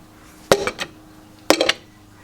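A hammer smacks a tool to separate a piston part from an engine damaged by a broken balance shaft belt, giving two sharp metallic strikes about a second apart, each with a short clinking rebound.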